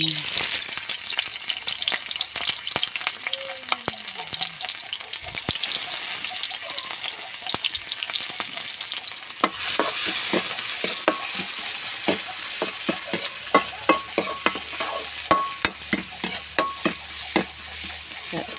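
Garlic stir-fries in pork lard in a pan, with a continuous crackling sizzle and frequent sharp spatula scrapes and clicks. The scrapes grow more pronounced toward the end.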